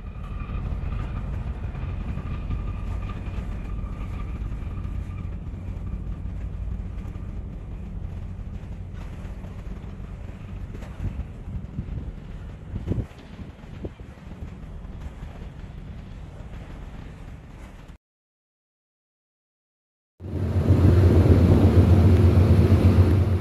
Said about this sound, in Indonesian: Kapal berlayar menuju ke daerah penangkapan ikan.